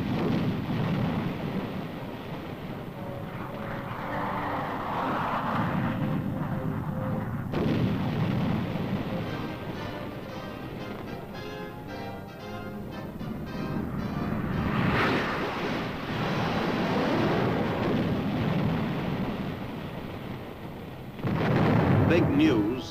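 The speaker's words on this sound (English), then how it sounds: "This group is watching a version of the napalm bomb, jellied gasoline that cuts down everything in its path." Heavy napalm bomb blasts of jellied gasoline roar and rumble in long waves, deep and booming, with a voice talking at times beneath the din.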